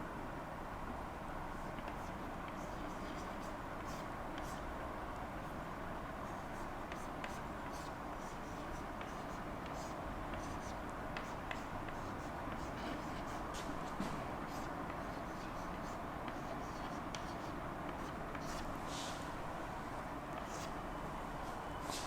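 Faint chalk or marker scratching on a board while someone writes out complex-number math, soft intermittent strokes over a steady low room hum.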